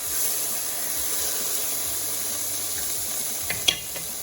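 Bitter melon and cashews stir fry in a pan with a steady, soft sizzle and hiss, close and even throughout, with a few brief utensil clicks near the end.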